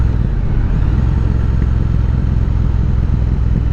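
Triumph Speed Twin motorcycle engine while riding, a loud, steady low rumble with constant road and wind roar, unbroken across the few seconds.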